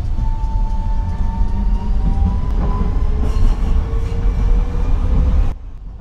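A tram runs along rails with a loud steady rumble, tonal wheel squeal gliding through the middle, and light clicks over track joints before the sound cuts off abruptly.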